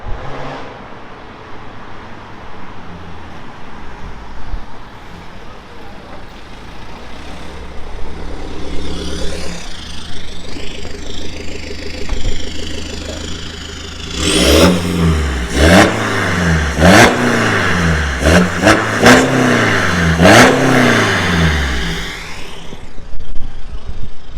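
A BMW E60 520d diesel with remote-controlled valved exhaust idles at first, then revs in a quick series of sharp, loud bursts, close by and without speech.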